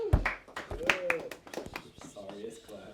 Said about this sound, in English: That's the sorriest clap.